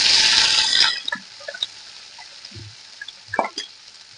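Chopped onion and slit green chillies hit hot oil in a pan with a loud hiss that fades within a second, followed by scattered soft pops and crackles.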